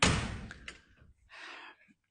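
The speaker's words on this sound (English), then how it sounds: "We're going to go out the back door." A house's back door is pulled open with a loud thudding clunk, then a second latch rattle and a softer closing knock follow, close by and with no talking.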